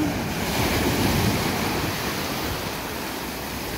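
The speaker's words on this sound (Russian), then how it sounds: "Волны." Mediterranean surf at Mahmutlar, Alanya, Turkey, rushes onto a sandy beach in December in a steady broad roar, swelling slightly and then easing, with some wind noise and no voices.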